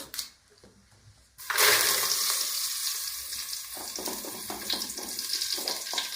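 Curry leaves hit hot oil with a sudden loud burst of sizzling that stays steady and crackling for several seconds, close up, after a quieter start.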